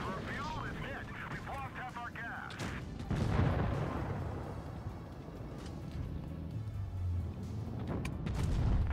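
Tank cannon fire in World of Tanks Blitz: a loud boom around three seconds in, with rumbling battle noise continuing behind a player talking throughout.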